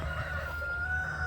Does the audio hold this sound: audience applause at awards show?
no